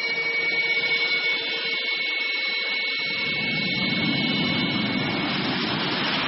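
A Sukhoi Su-30MKI fighter's jet engine roars in flight, a loud, steady whine-laden rumble that deepens and broadens partway through and continues unbroken.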